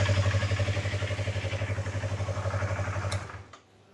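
A Yamaha R25 motorcycle engine runs with its exhaust covered, a close, rhythmic pulsing thrum that holds steady for about three seconds before a click and the sound dropping away.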